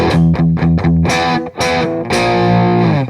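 A distorted electric guitar plays a riff at a slow tempo, chugging palm-muted chords in short repeated bursts before a longer ringing chord, loud and close with no talking.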